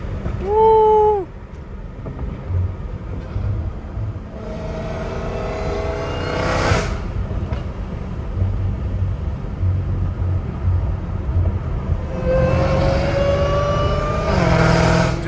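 Supercharged Dodge Hellcat Redeye with a catless exhaust revs hard from inside the cabin, a rising whine climbing over deep engine roar in two loud surges.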